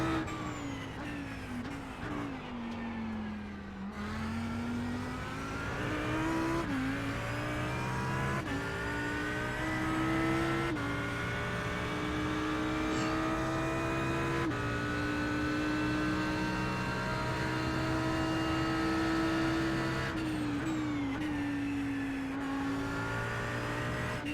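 A GT3 race car engine in a racing game at Suzuka hums at steady throttle, with quick revving blips where the pitch dips and rises as the throttle rolls through Spoon corner, under a constant synthetic game-like drone.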